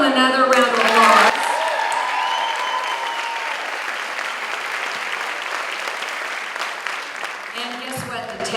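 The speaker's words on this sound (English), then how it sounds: "Let's give them another round of applause." Applause from the audience at an awards ceremony swells after a brief spoken moment and holds as a dense, steady wash of clapping for several seconds before it fades and talk resumes.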